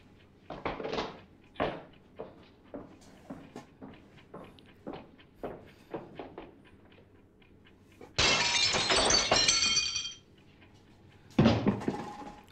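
Glass shattering in a 1983 Chespirito comedy film: a series of sharp knocks and taps, then a long bright crash of breaking glass, followed moments later by a second burst of shattering, all without speech.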